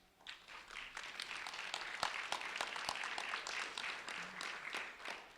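An audience at a Lee County Sheriff's Office award ceremony gives steady applause for an honoree. The claps are many overlapping hand-claps, faint and somewhat distant, continuing without talk.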